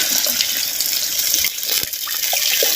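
One liter of plain water pours steadily into a pot of oil-sautéed mutton for a green chili mutton curry, a close, continuous splashing rush with no talking.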